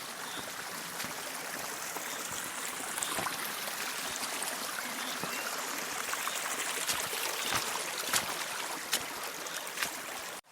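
A small stream with little waterfalls trickles and gurgles continuously nearby in a Carpathian forest, a steady bright rush of water with scattered splashy spikes.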